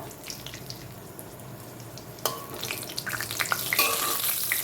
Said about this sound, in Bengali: তো ফোড়ন দেওয়ার জন্য আমি কিছুটা সাদা তেল, গরম মশলা গোটা,